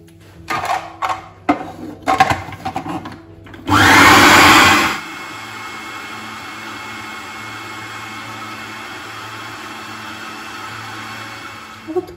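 A blender grinds mushrooms and nuts into pâté in one loud burst of roughly a second, after earlier clattering and handling sounds, then a quieter steady motor hum continues.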